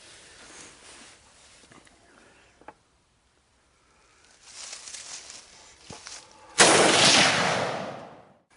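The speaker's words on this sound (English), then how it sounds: "We're going to start first with taking some shots with a standard aluminum lower." Single loud AR-15 rifle shot fired on an outdoor range at a steel plate 200 yards away, using a standard aluminum lower receiver. A sharp blast near the end follows quieter rustling and a couple of faint clicks.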